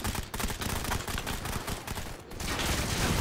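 Rapid automatic gunfire fills a Modern Combat 5 multiplayer match, dense overlapping bursts of shots crackling almost without pause, loud and close, with no speech.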